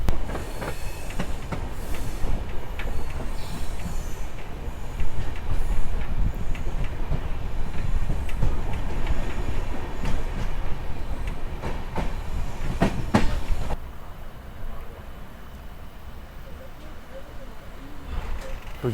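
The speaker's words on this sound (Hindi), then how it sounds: "अभी अराइवल हो रहा है रायवाला जंक्शन रेलवे स्टेशन पे" A train rolls into Raiwala Junction railway station with continuous clattering wheels and rumble, loud and close, easing off near the end as it slows.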